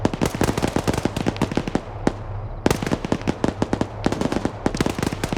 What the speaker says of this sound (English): Yeah, it's gunfire, man.